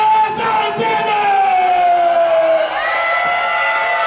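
A large wrestling arena crowd in Sacramento cheers and roars continuously after a pinfall win, loud and steady, with whoops and shouts rising over the din.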